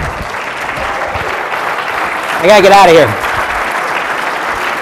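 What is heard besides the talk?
audience applause for the hypnosis show volunteers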